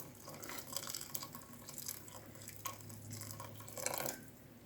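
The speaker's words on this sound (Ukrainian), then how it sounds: "Вливаю 400 мл гарячої води." Quiet splashing and trickling of hot water being poured into a sauce, with soft irregular gurgles and drips close by.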